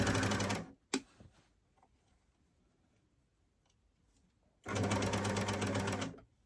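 A sewing machine stitches knit binding onto a T-shirt neckline in two loud, rapid, even bursts, one at the start and one near the end, separated by a quiet pause with faint handling clicks.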